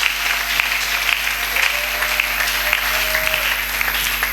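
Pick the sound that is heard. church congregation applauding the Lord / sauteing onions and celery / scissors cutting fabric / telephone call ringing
church congregation applauding the Lord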